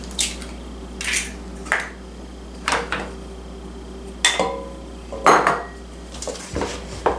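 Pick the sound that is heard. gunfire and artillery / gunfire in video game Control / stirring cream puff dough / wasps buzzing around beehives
stirring cream puff dough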